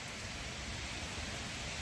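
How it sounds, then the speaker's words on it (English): Steady, dense rain hisses continuously and evenly, falling hard close by with no voices or breaks. "I like when it rains on me."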